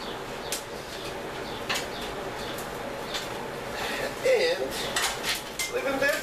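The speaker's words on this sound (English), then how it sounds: "I'm gonna stick all those babies in a Dutch oven" Charred poblano peppers are put into a Dutch oven, with scattered light clanks and clatters of cookware and a few sharp knocks, fairly quiet against a faint room background.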